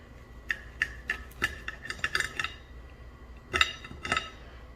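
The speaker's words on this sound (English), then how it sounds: "I just want to cut into one of these chops real quick so you can see how it looks" Knife and fork on a plate while cutting into a grilled pork chop: a series of light clinks and scrapes, close and fairly quiet, with a brief pause before a final few taps.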